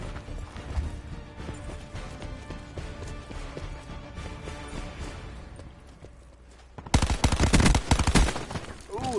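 Gunfire in a Call of Duty Black Ops 4 team deathmatch: dense, rapid shots crackle steadily throughout, then a sudden louder, heavier burst of fire erupts near the end.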